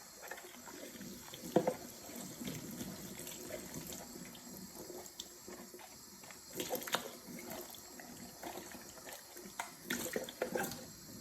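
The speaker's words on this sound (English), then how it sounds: "And then I will just give them a rinse." Makeup brushes are rinsed under running tap water at a sink, a steady, soft gush with splashing swells as the bristles pass through the stream.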